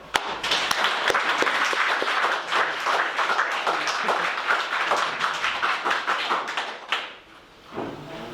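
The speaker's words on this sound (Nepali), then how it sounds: "हातहरू यस्तो उचालेर ताली बजाउनु परमेश्वरलाई" A church congregation claps hands for God during a Saturday service, dense continuous applause at close range that stops abruptly near the end, followed by a brief voice.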